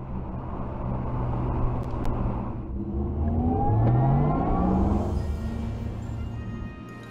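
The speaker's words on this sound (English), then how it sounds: "Your new electric vegan sports car looks and sounds remarkable." Porsche electric sports car driving past, a rising and falling whirring hum with sweeping electric whine tones that swell to a peak midway and then fade slightly.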